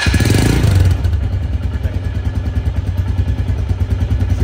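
A motorcycle engine runs close by with a loud, steady, throbbing idle, opening with a brief louder burst before settling into an even rumble.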